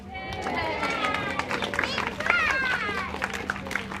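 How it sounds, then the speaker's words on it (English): Crowd of spectators cheering and whistling during a sea lion show at Rhyl aquarium, a lively sustained roar with scattered shouts and a presenter's voice over the top. "Nice big cheer,"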